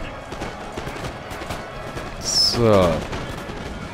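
Gunfire crackles through a battle in the Napoleon: Total War video game, a steady scatter of distant musket shots under the din, with someone briefly talking partway through.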